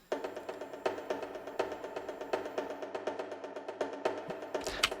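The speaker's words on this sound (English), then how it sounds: "I'm just using some of the hits from the tabla." Quick tabla hits tap out a steady, lively rhythm, crisp strokes repeating evenly at a soft level with a slight ringing tone.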